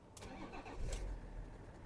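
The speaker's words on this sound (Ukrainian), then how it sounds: "Запускаємо двигун" A 2006 BMW X5 3.0 diesel engine cranks briefly from cold and then catches, settling into a low, steady idle rumble close by.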